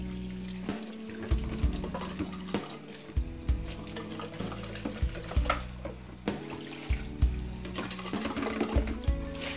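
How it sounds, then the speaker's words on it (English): Running tap water rinses out a smoothie blender at a kitchen sink, a steady wash of flow with low tonal hum and small knocks and splashes throughout, no talking. "rinse out your blender, your smoothie blender for the spinach."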